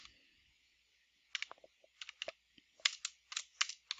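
Someone writes down a sentence, giving a run of light, quick taps and scratches that start after a quiet pause and come in close, irregular bursts with no talk.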